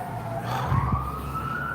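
Emergency vehicle siren rising in pitch as it passes close in a street, wailing tone over low traffic rumble with a brief thump midway.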